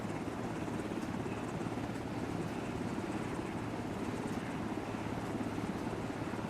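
Steady, loud helicopter rotor and engine drone in an Arma military video game, a continuous close thudding wash that fills the whole stretch without pause.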